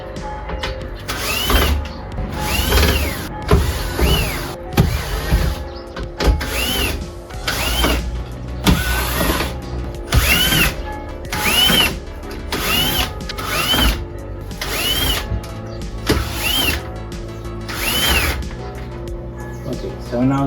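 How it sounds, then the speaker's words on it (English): A power tool backing screws out of a car's interior panel: regular whirring bursts about a second long, each rising and falling in pitch, repeated over a dozen times with short pauses, up close, with occasional speech in the gaps. "Okay, so now that you took all the 14 or 15 screws out, not sure, but a lot of them, you can just take the whole piece off."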